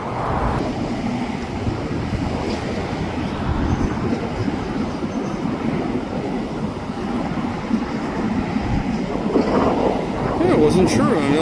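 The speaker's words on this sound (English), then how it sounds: "Hoppers, I see coil cars in the very front of the train" A freight train of hopper cars and steel coil cars rumbles steadily past nearby, with a continuous clatter of wheels and some squeal near the end, while someone talks over it.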